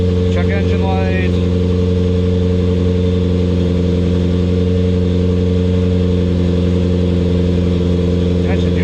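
A fire-damaged car built to look like a Ferrari, back running after repairs, idles with a steady, loud, even hum. A few brief chirps sound near the start and end.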